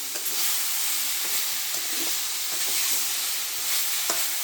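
Grated carrots fry in ghee in a pan for gajar halwa, giving a steady broad sizzle with scraping and stirring strokes from a utensil throughout, close and continuous with no talk.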